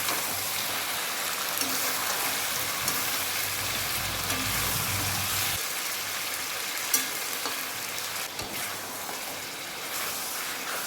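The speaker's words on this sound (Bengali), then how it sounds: "এবার মাংসটাকে খুব ভালো করে কষাতে হবে, যতক্ষণ না তেল ছেড়ে না আসে ততক্ষণ পর্যন্ত কষিয়ে যেতে হবে" Mutton for Bengali kosha frying in oil and being stirred, a loud steady sizzle with occasional scraping from the stirring, close by.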